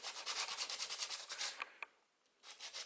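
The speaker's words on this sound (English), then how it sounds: "You don't want to start sanding into the" Quick, even strokes of light sanding on a fishing rod blank close by, then a short pause and a few scattered rubs, soft and dry.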